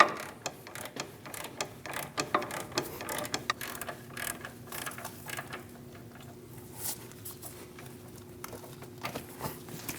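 Ratcheting clicks and metallic mechanism sounds from a 21 mm wrench loosening the nut and bolt of a front upper control arm on a 2001-2006 Chevrolet Silverado, irregular close taps and clicks throughout with no talk.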